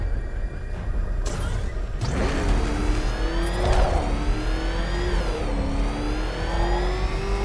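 The Batmobile from Batman Arkham Knight is driving, giving a steady engine roar with rising revs and whining gear shifts, close and continuous throughout.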